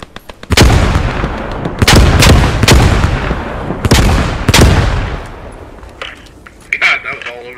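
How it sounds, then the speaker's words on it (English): Grenades explode in the World War II shooter game Post Scriptum, about five loud, booming blasts in quick succession, each trailing off in a rumbling decay. Quieter sounds and voices follow near the end. "Let's throw grenades at it, just 1 grenade each."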